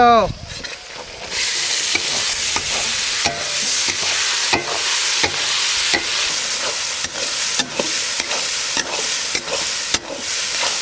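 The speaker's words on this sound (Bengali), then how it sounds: "মশলা সুন্দর কষানো হয়ে গেছে" Spices are sautéed with green chili and tomato for a mutton dish cooked outdoors in a forest, with a loud, steady sizzle and regular rhythmic spatula scrapes against the pan.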